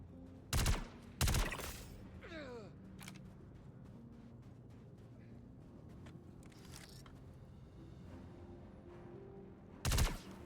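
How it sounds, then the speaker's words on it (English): Bursts of gunfire in Star Citizen Alpha 4.2.1, two sharp volleys early and another near the end, separated by quieter stretches with faint distant shots and ambient noise. "I just heard some gunfire"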